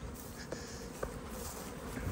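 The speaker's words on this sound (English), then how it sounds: "Masses of bees on that one." Honeybees buzzing around an open colony in an apiary, a steady diffuse hum with a few brief louder passes close by.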